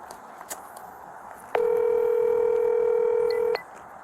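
Telephone dialing tones from a call made during a police body-camera recording: a short burst of keypad tones, then one steady loud tone lasting about two seconds over a low background hum.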